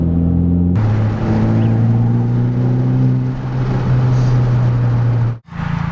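A 2013 Hyundai Veloster Turbo engine drones steadily while driving, a smooth, fairly loud hum that holds its pitch and cuts out abruptly near the end.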